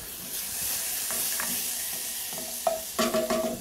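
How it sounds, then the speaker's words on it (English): Diced jalapeno sizzles in butter in a pan, a soft, steady frying hiss that rises late into a few louder crackling pops and scrapes from stirring. "I've got my jalapeno sweating in the butter."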